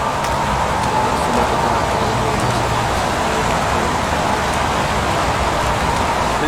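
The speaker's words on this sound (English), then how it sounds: "Goddamn rain. Hasn't stopped pouring since I arrived." Heavy rain pours steadily in the video game Heavy Rain, a dense, even hiss of falling water with no break, loud and continuous throughout.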